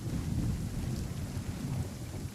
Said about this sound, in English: It's constantly raining,